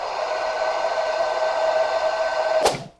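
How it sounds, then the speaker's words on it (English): A hair blow dryer running on the cool setting during an edges styling session, a steady close whooshing hum with a faint tonal whine that stops abruptly near the end. "Get that blow dryer, put everything on there cool."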